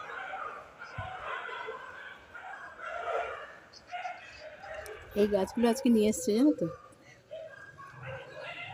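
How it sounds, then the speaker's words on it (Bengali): Dogs bark in a short burst of several yelps near a home rooftop garden, moderately distant, while someone talks before and during it. "বাবা কুকুরগুলো চিৎকার করছে দেখো"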